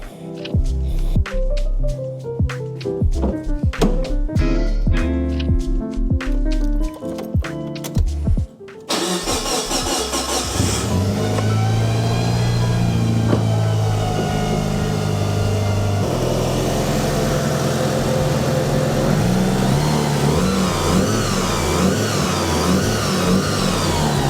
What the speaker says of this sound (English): Let's go start the car.